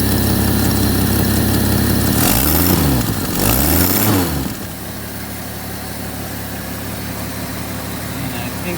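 A 1948 Willys CJ2A Jeep engine runs loudly at close range while a belt shreds, giving two sweeping rising-and-falling whines over the engine drone before the sound drops to a steadier, quieter idle.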